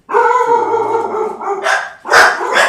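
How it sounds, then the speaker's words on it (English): A dog howls in a long drawn-out tone, then lets out several loud, close barks in quick succession. "That's the dog that almost died last week."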